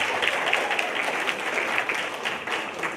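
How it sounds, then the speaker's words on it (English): Sustained applause from an audience at a soapbox speech event, dense and even, holding steady for the whole stretch. "Let's give a warm welcome again, a warm round of applause for Viva."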